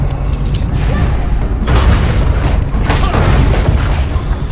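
Cannons boom during a castle siege in ArcheAge, heavy blasts landing in an irregular barrage over a constant loud roar of battle.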